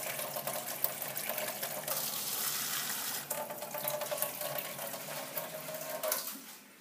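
Kangen alkaline water running from the machine into a cup, a steady hissing splash of flowing water that shifts in pitch as the cup fills and trails off at the end.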